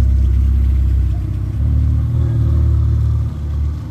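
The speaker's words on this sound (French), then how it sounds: "Regardez-moi ça, Carrera GT de Raoul qui passe." A Porsche Carrera GT on a Monaco street gives a deep, loud engine rumble that swells and fades as it rolls past nearby, steady throughout with no talking.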